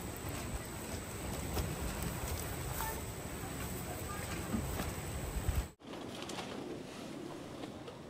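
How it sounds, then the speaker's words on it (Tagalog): Strong wind blowing outside at a valley campsite, a steady broad rushing noise that continues throughout, broken by a brief dropout near the end, with occasional soft bird calls in the background. "Lakas ng hangin sa labas."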